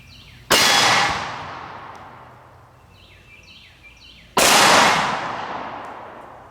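Two 12 gauge Aguila mini-slug shots fired from 20 yards into ballistic gel backed by AR-500 steel, each a loud crack with a ringing metallic clang that fades over several seconds, spaced about four seconds apart.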